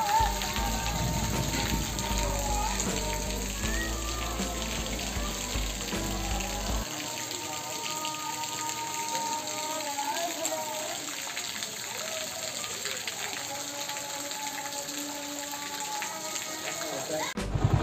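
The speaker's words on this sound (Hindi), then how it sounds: "बारिश हो रही है अभी काफ़ी ज़्यादा" Heavy rain pours steadily over a village after 40 hours of rainfall, a dense hiss of water, a voice speaking over it now and then.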